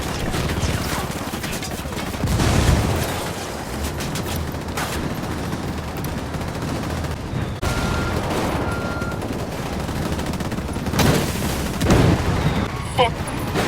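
Gunfire and a grenade blast in the tactical shooter Ghost Recon Wildlands, with bursts of rifle fire and heavy booms clustered near, and a player's voice talking over the combat.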